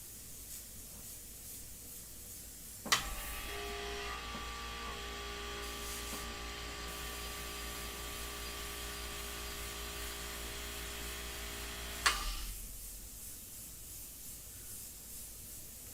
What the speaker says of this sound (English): I'm just going to go over that area once and then just come up, spraying away from the mylar